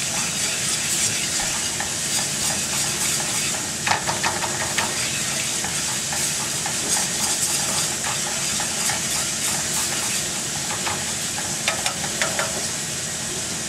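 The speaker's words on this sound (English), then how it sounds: "Give this a stir with my whisk" A whisk stirs food in a sizzling pan while pork chops cook, giving a steady frying hiss with light, irregular scraping ticks throughout and no speech.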